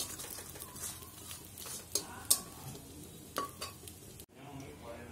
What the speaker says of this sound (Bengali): একদম ভালো করে ফ্রাই করে নেবেন, যেন মুচমুচে খেতে লাগে